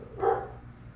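Dogs give a single muffled bark, fairly faint and somewhat distant, over a low steady background hum.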